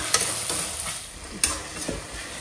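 Tomatoes sautéing in a pan give a steady close sizzle with a few louder scraping stirs, heard alone with no talk.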